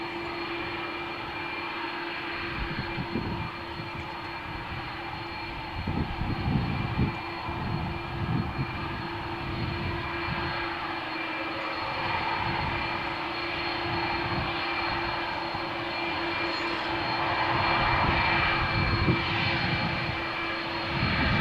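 An Aer Lingus Airbus A330 taxiing for takeoff from Malaga Airport's runway 13 toward Dublin on a stormy morning, its engines holding a steady whining drone with a low rumble, continuous and moderately near, with wind buffeting throughout.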